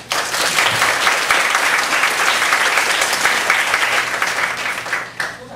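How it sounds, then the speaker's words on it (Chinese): A seminar audience at an international volunteer workshop claps to welcome two speakers, dense steady applause from many hands filling the room for about five seconds before trailing off. "我想我们先用掌声来给这2位表示我们的欢迎"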